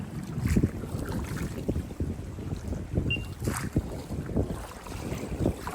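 Strong gusting wind buffets the microphone on open water while fishing for carp, a continuous roar with surging peaks and some faint water lapping underneath, no voices.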